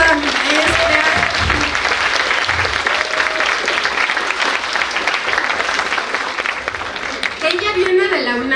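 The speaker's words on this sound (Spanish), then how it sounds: "un aplauso a mi maestra" An audience applauding a guest speaker at a talk, steady continuous clapping throughout, with a voice speaking over it at the start and again as the applause winds down.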